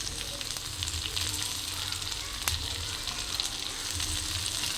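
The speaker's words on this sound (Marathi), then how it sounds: "आणि छान परत एकदा कांदाही आपल्याला छान परतून घ्यायचा आहे." Onion sautéing in hot oil with garlic for Maharashtrian eggplant bharit, a continuous dense sizzle with low stirring rumble underneath and one brief louder crackle, no talking.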